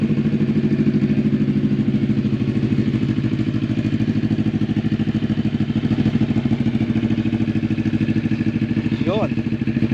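A 2022 CFMOTO 400cc motorcycle engine idles with a steady, close, loud rhythmic putter that holds even throughout, with a brief voice near the end.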